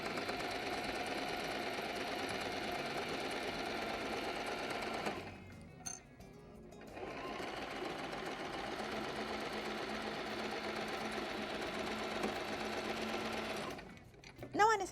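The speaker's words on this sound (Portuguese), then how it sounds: "Aqui é simples, é uma costura reta." A sewing machine runs a straight seam on a fabric bottle holder, its steady motor whir continuing for several seconds, pausing briefly, then resuming before stopping near the end.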